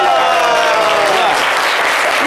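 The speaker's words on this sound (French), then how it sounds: "Itakiko, applaudissez." A live audience at a hosted show applauds loudly and continuously, a dense wash of many hands clapping with some crowd noise, steady throughout.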